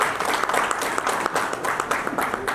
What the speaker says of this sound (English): A big round of applause for them, please.